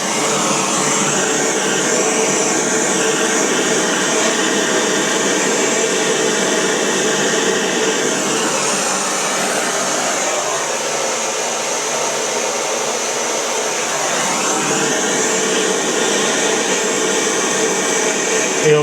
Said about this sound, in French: On prend notre petit chalumeau.